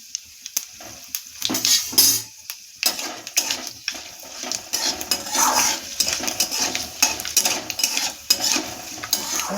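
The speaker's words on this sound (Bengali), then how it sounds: "ফোড়নে দিচ্ছি তেজপাতা, শুকনো লঙ্কা, 5 ফোড়ন" Bay leaf, dried red chilli and Bengali five-spice tempering fry in hot oil in a pan, a steady crackling sizzle broken by repeated metallic stirring scrapes and clinks of a spoon against the pan, close and fairly loud.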